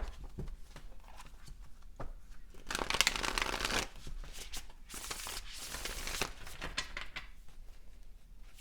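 Tarot cards are shuffled by hand close up, giving soft repeated riffles and shuffles with a louder flurry midway, quiet and without talk.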